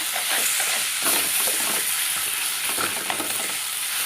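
Dried fish curry masala frying in a pan for a Tamil karuvadu kuzhambu, a steady loud sizzle with scraping stirs throughout, close and alone without speech.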